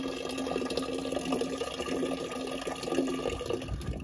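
Water pouring steadily from a hose or can onto young trees on a farm, a continuous close splashing trickle with a faint background hum and no voices.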